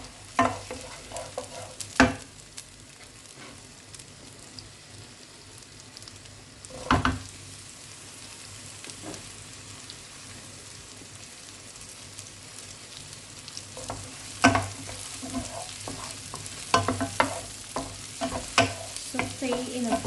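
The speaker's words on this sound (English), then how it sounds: "saute in a butter." Onions sauteing in butter in a pan, a steady close sizzle with intermittent scraping stir strokes and clinks of the utensil, no talking.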